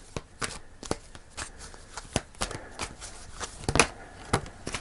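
Tarot cards being shuffled by hand: a close series of crisp, irregular riffling and slapping bursts, some sharper than others, with no talking.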